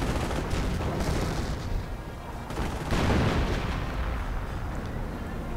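Tank cannon fire and battle explosions from the World War II strategy game Company of Heroes, with a Firefly and a Panther in the fight: a dense, continuous roar of booms and gunfire, with a commentator talking over it.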